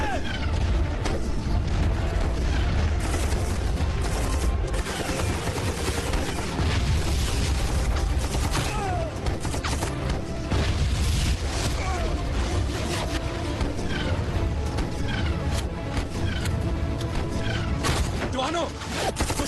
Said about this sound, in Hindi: इस तरफ से हैवी फायर हो रहा है सर।